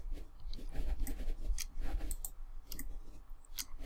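Computer mouse clicks while working in Revit, a scattered run of short sharp ticks at close range over faint background noise, with no talking.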